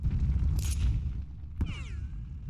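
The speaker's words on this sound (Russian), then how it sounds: "Выстрел из миномета." A mortar fires in the video game UFO2: Extraterrestrials, a single heavy boom followed by a second sharp blast with a ringing, whistling tail over a low rumbling background.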